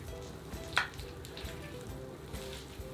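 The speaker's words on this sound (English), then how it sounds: "it's come out all golden and it's making wonderful sizzling noises" An oven-baked dish, golden on top, sizzles and crackles steadily on its own, with one sharper pop near the start and a soft continuous hiss throughout.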